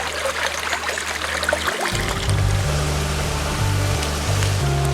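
Steady rushing and trickling of a small waterfall on the Bogle Burn in southern Scotland, continuous and close, with a low rumbling undertone and no talk.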